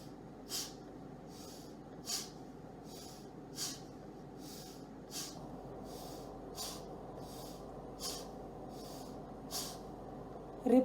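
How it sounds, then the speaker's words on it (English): Forceful pranayama exhalations, sharp nasal bursts of breath out repeated at an even pace of about one every one and a half seconds, close and alone over a quiet room hiss. "take a breathe in and breathe out with a jerk"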